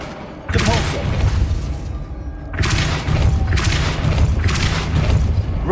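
Booming spell blasts from the Hogwarts Legacy video game, the Depulso force spell among them, arrive as several heavy thuds and rumbling impacts, loud and close with game effects layered between them.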